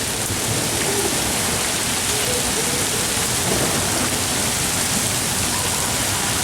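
Dense, loud hail pours down outside a house in a constant hiss and patter, a steady roar of ice striking surfaces with no pauses, hail flowing down the street.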